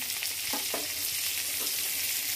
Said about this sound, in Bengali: এখন শুধু পটল ভাজছি